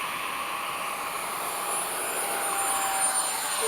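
An FMS 70mm F/A-18 model jet throttles up, its ducted-fan engine giving a steady, loud, high-pitched whine and roar that builds slightly toward the end, with no voices.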